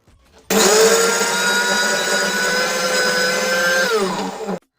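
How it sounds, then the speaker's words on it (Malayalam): An electric mixer grinder running on dried prawns: a loud, steady motor whine that starts abruptly, holds its pitch for several seconds, dips slightly near the end and then cuts off. "നമുക്ക് എന്തായാലും മിക്സി കാണി ഒന്ന് ഓണാക്കി കൊടുക്കാം."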